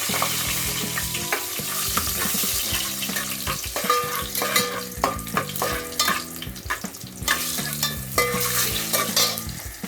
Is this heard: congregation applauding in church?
no